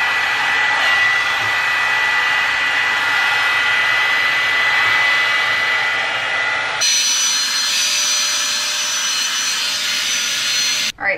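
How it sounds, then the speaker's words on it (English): Hair dryer blow-drying hair: a loud, continuous, close airy whoosh that drops to a lower setting partway through and runs alone without talk, ending in a brief clunk. "so that literally took me like 12 minutes to blow dry"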